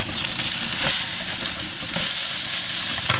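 Grass-fed ghee frying in a pan on low heat, a steady close sizzle and crackle with occasional stirring scrapes, alone without voices.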